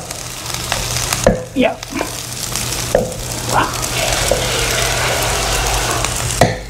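Garlic and chili hitting hot oil in a frying pan, a steady sizzle with a few clinks and stirring scrapes, close and fairly loud, with a brief spoken word.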